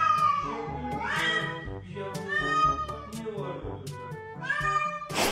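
A cat meows repeatedly, with several drawn-out, wavering cries in close succession, loud and near, partly overlapping background sounds.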